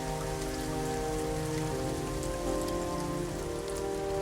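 Steady rain falls on a surface, a dense, even patter with scattered drop ticks and a low hum beneath it. The sound is fairly quiet and continuous, with no voices.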